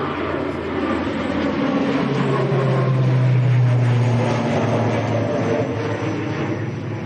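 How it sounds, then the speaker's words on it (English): An ATR turboprop gets airborne off the runway at Manchester Airport, a broad steady engine drone with a low tonal hum that swells toward the middle and then slowly eases, heard from a distance. "Logan there, ATR, is getting airborne."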